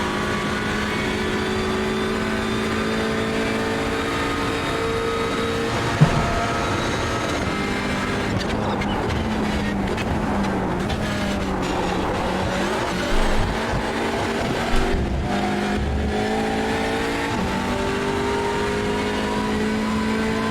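Hyundai Elantra TCR race cars circling Circuit Gilles Villeneuve in Montreal, a steady loud engine drone with shifting pitch as cars pass and accelerate, continuous throughout with no break.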